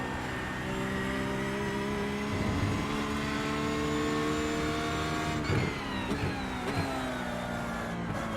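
A Porsche GT3 race car roars in the iRacing sim at Sebring, its engine holding a loud, steady high-revving drone with a few brief lifts and gear-shift dips near the end, no talking.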